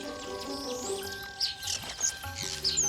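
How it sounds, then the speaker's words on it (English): Weaver birds chirp and tweet in short, repeated high calls while they build nests, with a few sharper notes standing out over steady background twitter. "Weaver birds are a jealous bunch."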